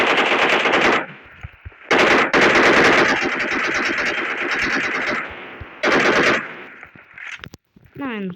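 Loud bursts of rapid automatic gunfire from a video game, in several long strings separated by short pauses, with a few scattered single shots and a brief voice near the end.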